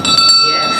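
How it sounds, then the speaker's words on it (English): A bell rung at a school board of education meeting, its sustained bright ringing tones holding steadily through the short moment while a nearby voice speaks over it. "Let us ring the bell. Just ring it. Ring that bell."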